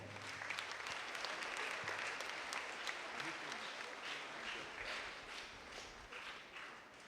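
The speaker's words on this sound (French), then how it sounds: "Applaudissez les enfants." Church congregation at a Sunday morning Mass applauds children after their first communion, a sustained wash of many hands clapping in a large room, steady and moderately loud with no one speaking.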